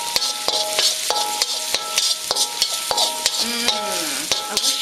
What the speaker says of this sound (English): add just a little bit more oil so that way our ginger and our jalapenos and our garlic, so they don't burn, in they go